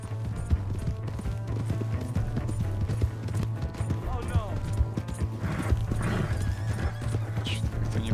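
Rapid hoofbeats of a galloping horse in Red Dead Redemption 2 thud over a steady low hum, with a horse whinnying partway through and busy game effects layered around.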